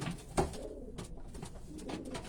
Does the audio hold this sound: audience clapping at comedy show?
no